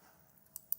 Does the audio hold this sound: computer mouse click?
yes